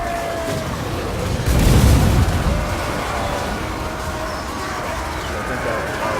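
Artillery fire in the battle game Total War Warhammer II, a heavy low boom swelling in the middle of ongoing battlefield din, with someone talking over it.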